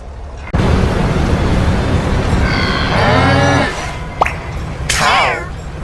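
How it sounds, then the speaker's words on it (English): A cow lets out one long, loud, low moo in the middle, framed by a few shorter voiced calls and a steady background hiss. "Cow."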